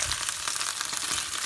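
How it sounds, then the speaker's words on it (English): Frozen vegetables stir-frying in oil in a pan, a steady close crackling sizzle throughout with no talking. "we're just going to stir fry the vegetables"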